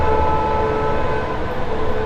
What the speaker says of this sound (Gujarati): ટ્રેન આવી ભાઈ